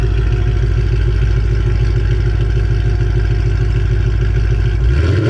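A tuned car named Hades rumbles loudly close up from outside, its exhaust giving a deep, steady pulsing drone that holds throughout before dropping off at the very end.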